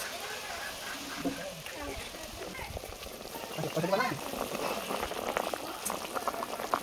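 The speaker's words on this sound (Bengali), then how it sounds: "ঝোলটা ফুটে গেছে, এবার দিয়ে দেব মাছ।" Rui fish kaliya gravy with slit green chillies and water boils in a pan, giving a steady close bubbling and simmering that swells a little louder toward the end.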